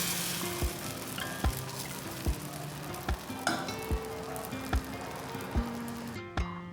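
Thin dosa batter spread on a hot griddle for crisp hotel-style dosas, giving a steady broadband sizzle with a series of evenly spaced sharp taps or scrapes roughly every second, close and moderately loud, no talking.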